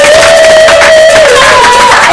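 A church congregation cheers and acclaims God together, a loud, dense crowd roar with shouts and clapping that fills the whole short stretch without letup.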